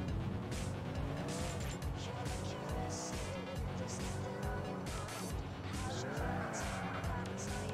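A car in the video game Grand Theft Auto IV drives with its engine whining up and down in pitch, and its tires squeal repeatedly in skids, steady and close throughout.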